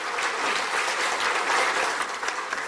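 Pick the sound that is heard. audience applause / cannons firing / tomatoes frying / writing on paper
audience applause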